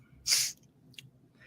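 A single sharp sneeze bursts out abruptly, brief and fairly close, followed by a faint breathy sniff in an otherwise quiet studio setting.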